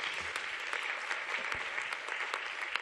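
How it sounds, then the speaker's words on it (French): Audience applause at a French study day round-table session on water, a steady dense wash of many hands clapping at moderate distance, filling the whole stretch without a break. "Vous pouvez les applaudir."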